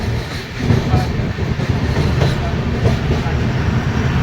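A train rolls along with a constant rumbling roar and rhythmic clatter of wheels, heard loudly from inside a Gour Express general coach crossing Farakka Barrage at night.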